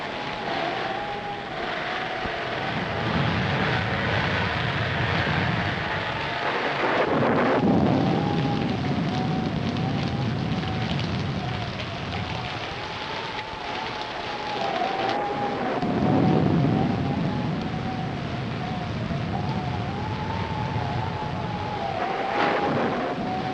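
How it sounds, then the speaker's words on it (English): Storm with thunder and wind in a classic noir mystery film, long low rumbling swells that build and fade beneath a constant windy roar, with no talking. "we'd better get out of here before this storm gets any worse"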